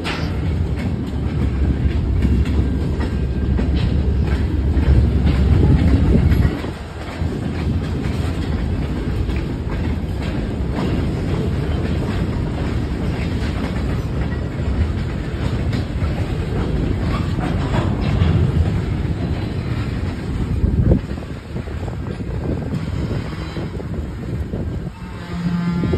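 CSX 6060 locomotive moving tanker and hopper cars through a downtown area, steady rumble with rhythmic clickety-clack of wheels over rail joints, loud and close, continuing throughout.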